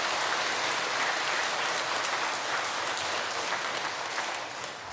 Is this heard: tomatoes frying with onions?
no